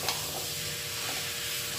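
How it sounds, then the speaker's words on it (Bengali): Kabuli chickpeas in a pan give a brief, steady sizzle with a soft stir near the start, close and moderately loud, with no talking. "কাবলি ছোলাটা দিয়ে দিচ্ছি"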